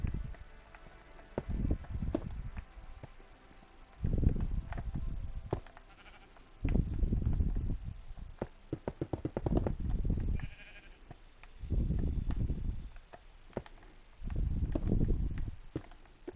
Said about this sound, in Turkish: Evin içine koyun girdi.